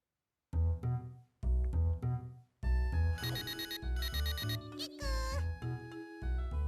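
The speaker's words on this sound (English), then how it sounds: "Phone call coming in, Red." An incoming-call ringtone on a phone in a video game sounds as repeated bright trilling bursts that rise over the ongoing game music and effects.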